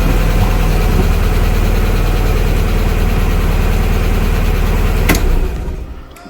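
A Fiat Barchetta engine runs at a steady, loud idle close by, a continuous low rumble that holds evenly before fading away near the end.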